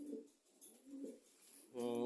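Sick pigeons sitting puffed up coo in soft, low repeated phrases, a few rounded calls close by, ending with a louder, fuller coo.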